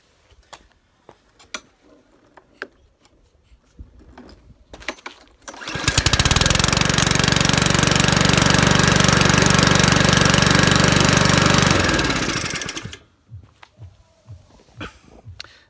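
A little Mountfield lawn mower in very good condition but hard to start fires up after quiet handling noises, running loud and steady for about six seconds before cutting off.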